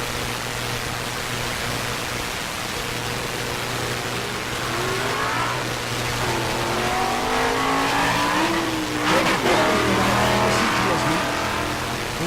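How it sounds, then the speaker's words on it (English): Drag race cars launching side by side at Rocky Mountain Race Week 2023, engines roaring and climbing in pitch as they accelerate down the track, heard from trackside over a constant crowd and PA hum. "Good side-by-side drag race."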